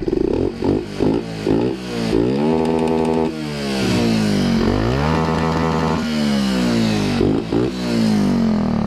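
A Raider J115 Fi motorcycle engine with a 57mm bore, not yet tuned, revs up close, rising and falling repeatedly in loud bursts, with two longer held high-rpm revs between quicker blips.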